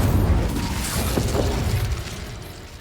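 A fire spell cast during combat in Hogwarts Legacy, a dense whooshing burst with low rumble that holds steady for about two seconds, then fades slightly at the end.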